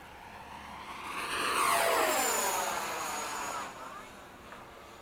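An E-flite 80mm F/A-18D or Freewing 90mm F-15 RC model jet taking off, its ducted fan whine rising and sweeping past before fading into the distance, moderately loud.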